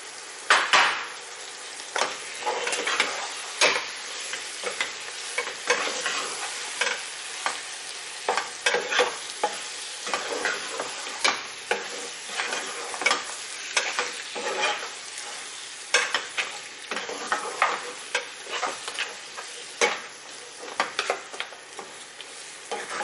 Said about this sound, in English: Just about 1 to 2 minutes, I will stir this on a high flame